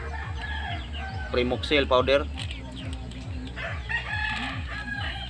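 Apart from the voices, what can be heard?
chicken crowing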